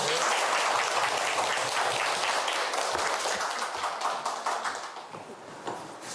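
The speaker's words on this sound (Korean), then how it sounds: "박수 부탁드립니다." An audience welcomes a professor to a talk on local self-government and the constitution with hearty applause, many hands clapping densely and loudly at first, then gradually tapering and thinning out toward the end.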